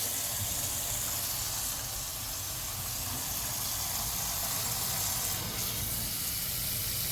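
Grapes are washed under running tap water, giving a constant soft rushing hiss throughout with no clear voices.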